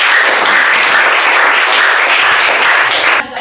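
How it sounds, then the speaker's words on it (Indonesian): A classroom of students claps in a loud, even burst of applause close to the mic for about three seconds, cutting off abruptly. "Silakan beri tepuk tangan."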